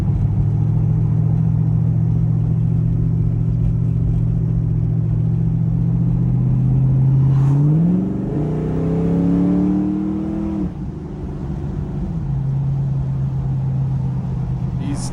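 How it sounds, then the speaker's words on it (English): A restored 1992 Ford Mustang Foxbody with loud mufflers drones steadily while cruising, then its engine note climbs through a rev and drops back to a deep, loud idle-like burble, heard from inside the car. "it's the first time I've driven the car, and boy, oh boy, is it loud"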